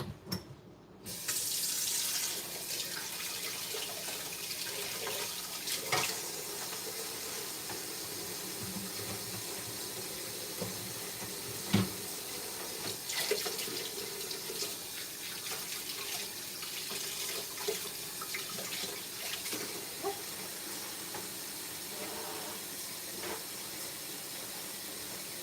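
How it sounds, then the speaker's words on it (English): Kitchen sink tap running steadily for hand washing, a close continuous hiss of flowing water with small splashes and clinks of hands moving under the stream, no talking. "Let me wash my hands."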